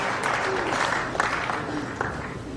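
Crowd applause at the 1985 World Snooker Championship final, Steve Davis against Dennis Taylor, a steady bed of clapping with brief swells, under some talk.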